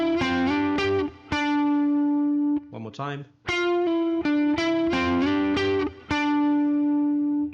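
Electric guitar run through distortion and effects plays a riff as a lesson demonstration: sustained, bright picked notes in short phrases with brief gaps, close and loud, plus a short spoken remark.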